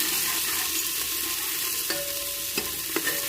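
Onions fry in a pan for salted rice, giving a steady broadband sizzle throughout, with a few light scraping stirs near the end and no voices.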